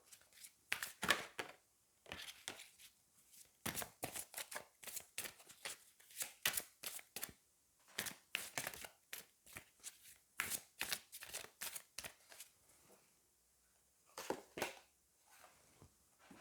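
Angel oracle cards are shuffled by hand in repeated quick riffling bursts, crisp and close, with short pauses between each run.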